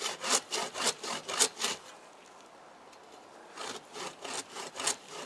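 A cheap dollar-store bucksaw cutting dead standing wood outdoors: a run of rhythmic rasping strokes, a pause of near quiet, then another burst of steady back-and-forth sawing, close and clear with no talking.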